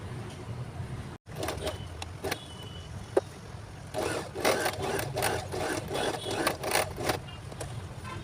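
A sewing machine stitches around a newborn baby cap in bursts of rapid mechanical running, stopping and starting with brief pauses and handling noises between runs.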